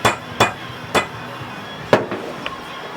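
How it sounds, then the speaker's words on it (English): Sharp metallic clacks from a rivet gun fastening a bearing onto the shaft of a STIHL HT-101 pole saw during a shaft repair: several loud isolated snaps spaced irregularly, with fainter ticks between them and no talking. "We just slide the bearing on, line the hole up, pop the rivet in there"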